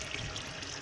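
Water running steadily into a garden pond through an adjusted inlet valve, a continuous close gushing pour with no pauses or talk.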